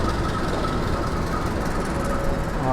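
The Jayabaya business-class passenger train rolls past, wheels rumbling steadily on the rails, with a faint squeal riding over the continuous nearby clatter.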